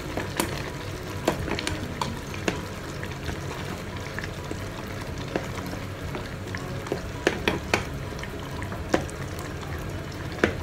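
Food frying in a pan while being stirred for chatti chore, with a steady sizzle and scattered sharp scrapes and clinks of the spoon against the pan, close and continuous with no talking.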